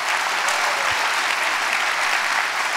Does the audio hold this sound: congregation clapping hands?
yes